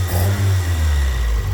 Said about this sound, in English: In case you think I'm just revving it cold, it is warmed up.